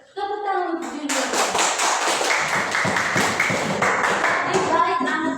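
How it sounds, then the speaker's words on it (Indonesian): A children's class claps for a classmate named Junior, a lively burst of many small hands applauding together close by, following a brief spoken prompt from a voice. "Tepuk tangan untuk Junior."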